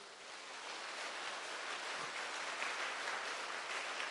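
A congregation at a retreat talk by Fr George Panackal claps with hands raised. The clapping is a dense, steady wash, rising slightly and holding for about four seconds, with no voices over it.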